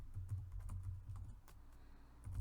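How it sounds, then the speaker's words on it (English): Quiet, steady computer-keyboard typing during a remote call, with soft clicks of the keys in a continuous pattern and low room hum underneath, with no speech. "Forgive the keyboard noises if you're picking them up."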